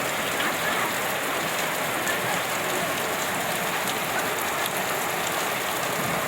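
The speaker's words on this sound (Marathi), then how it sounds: "जबरदस्त मुसळधार पाऊस चालू झाला आहे त्याच्यात गारा पण पडू राहिला" Heavy rain pours down steadily in a dense, even hiss, with scattered sharper ticks of small hailstones striking surfaces throughout.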